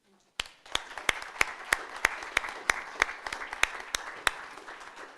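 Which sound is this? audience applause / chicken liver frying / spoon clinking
audience applause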